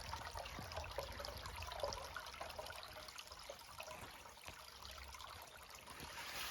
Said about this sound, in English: that spring friggin' puts out a lot of water